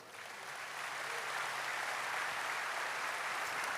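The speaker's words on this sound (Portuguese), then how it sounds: "Você pode aplaudir a Jesus agora?" A church congregation applauds during a sermon, with steady, dense clapping that builds in the first second and then holds even, heard from a distance with no voices over it.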